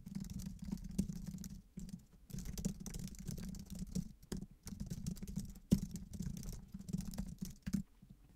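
Typing on a computer keyboard while writing the text of an "About" page, a close, steady patter of key clicks in bursts separated by brief pauses, with no voices.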